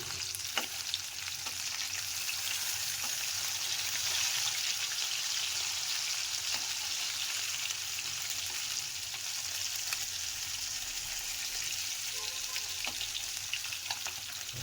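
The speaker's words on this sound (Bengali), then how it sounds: "এক সাইডটা ভাজা হয়ে গেছে এখন মাছগুলোকে আমি উল্টে দিলাম" Steady, crackling sizzle of fish frying in hot oil, continuous and close, with occasional small pops and faint utensil clicks as the fish are turned.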